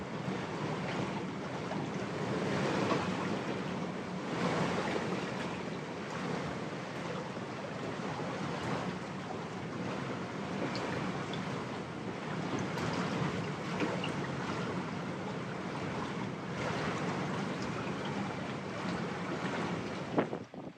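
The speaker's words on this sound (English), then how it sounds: "Let's just enjoy the view and the natural sounds for a moment to get into the sailing groove." Steady rush of water and lapping waves against a sailing boat's hull near Elba, with gusts of wind buffeting the microphone throughout; no voices.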